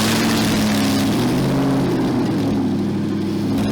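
Toyota Tacoma with a swapped 5.3 LS V8 and straight pipe exhaust, idling with a loud, deep, steady rumble recorded close.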